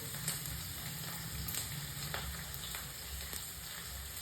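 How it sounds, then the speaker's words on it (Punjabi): Chopped onions and green chilies sizzle and fry with garlic in a pan, a steady close crackle with occasional stirring clinks and no talking. "ਹੁਣ ਇਹਦੇ ਵਿੱਚ ਮੈਂ ਦੋ ਵੱਡੇ ਪਿਆਜ਼ ਲੈ ਕੇ ਬਰੀਕ ਬਰੀਕ ਕੱਟ ਲਏ ਤੇ ਚਾਰ ਹਰੀਆਂ ਮਿਰਚਾਂ ਬਰੀਕ ਬਰੀਕ ਕੱਟ ਲਈਆਂ ਆਪਾਂ ਇਹ ਪਾ ਦਾਂਗੇ ਇਹਦੇ ਵਿੱਚ"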